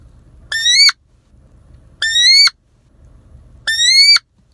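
Three evenly spaced, shrill rising squeals blown on a wood duck call mimic a wood duck puddling on water. Each lasts under half a second and is close and loud, with brief pauses between them.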